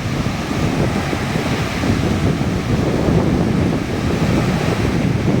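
Large ocean waves break and churn steadily at Sitio Boloc, Mambajao, Camiguin Island, a surfing spot, with strong wind buffeting the microphone in a constant loud roar and no voices.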